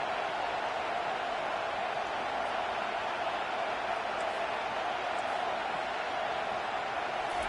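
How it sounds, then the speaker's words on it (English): Steady roar of a football stadium crowd during a college game, a dense, continuous wash of distant cheering and noise with no distinct voices standing out, holding evenly throughout. "This crowd trying to make life miserable for this offense."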